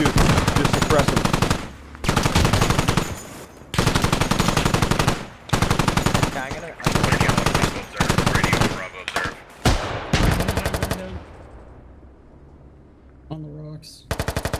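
Turret machine gun fire in the Squad video game, loud sustained bursts of automatic fire repeating in rapid strings with short pauses between, then trailing off into quieter scattered shots and distant battle noise.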